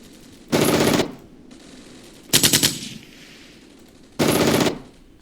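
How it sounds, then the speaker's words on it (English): 7.62 mm medium machine gun in Armored Brigade fires three separate sustained bursts, each about half a second of rapid loud shots, separated by pauses, with a quiet background between. "Heavy machine gun, or medium machine gun anyway"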